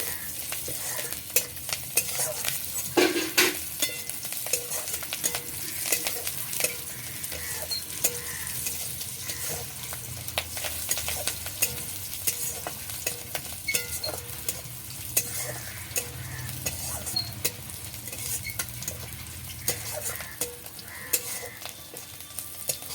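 Dried and green chillies fry in a pan, giving a steady close sizzle under repeated scraping stirs of a utensil, with no talking.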